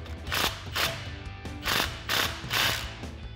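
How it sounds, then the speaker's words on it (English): A ratchet with a 13 millimeter socket tightens an exhaust clamp on a RAM 1500 dual exhaust system, giving about five close, crisp clicking strokes in a steady rhythm. "So we'll just snug this up using our 13 millimeter socket."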